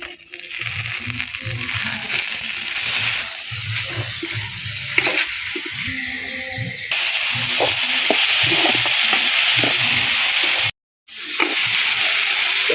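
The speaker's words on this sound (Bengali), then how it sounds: "ডালটা ভাজা হয়ে গেছে এখন চালটা দিয়ে দেবো" Rice and fried moong dal are stirred together in a hot pan, giving a loud, continuous sizzling hiss with rhythmic scraping and grainy rustling; one brief silent break falls near the end.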